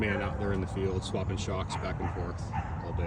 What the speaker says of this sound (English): Dog park next door to the shop here.